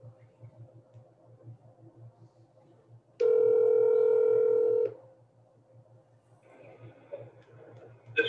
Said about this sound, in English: Mr. Slim, I'm going to call you from my cell phone, and then you'll be able to speak through my phone.